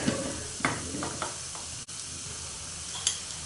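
Chana dal and urad dal sizzle and hiss steadily in hot oil while tempering in a pan, with a few brief stirring scrapes and crackles near the start and again toward the end.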